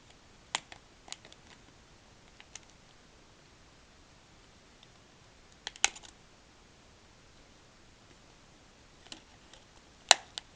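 A few sharp plastic clicks of Samsung digital camera parts snapping into place during an LCD screen replacement, scattered through near-silence, some single and some in quick pairs, close and fairly faint with no voices.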